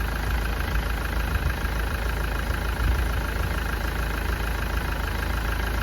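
A car engine idling during a head gasket test, a continuous even hum at steady volume with no change in pace, heard alone without talk.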